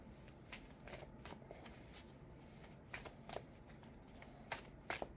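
A deck of Healing Spirit oracle cards by Gordon Smith is shuffled by hand, giving soft papery riffles and flicks in repeated bursts, quiet and close with no talking.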